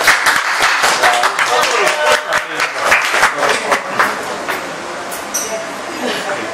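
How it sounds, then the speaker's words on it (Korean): A roomful of people at a priest's feast-day celebration claps in a loud burst that thins out toward the end, with voices chattering over the applause. "박수 한번 주십시오"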